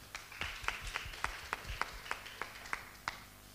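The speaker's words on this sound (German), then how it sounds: "deinen Applaus bitte" Scattered, fairly sparse applause with individual claps standing out in a steady rhythm, moderately distant, like a small audience clapping.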